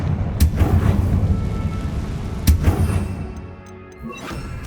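Repeated Confringo blasting-spell explosions in Hogwarts Legacy, two sharp booming bursts about two seconds apart over a rumbling low background, loud and close with a crackling decay after each.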